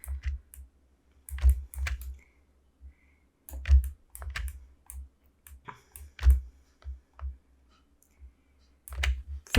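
A computer keyboard being used while modelling a boot in Maya, with sparse, close key presses arriving in small irregular bursts of clicks and quiet gaps between them.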